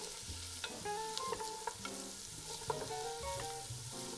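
Onions frying with garlic that is already taking color in a pot, a soft continuous sizzle with light stirring clinks and scrapes, fairly faint and without talk.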